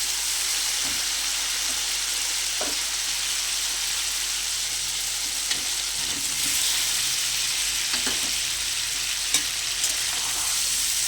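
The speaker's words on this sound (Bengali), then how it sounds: "এবার আমি ভেজে রাখা আলুগুলো দিয়ে দেবো।" Fried potatoes tossed into a well-cooked spice paste for an egg and potato curry, with a steady, dense sizzle and frying hiss throughout and occasional soft stirring knocks, close up with no talk.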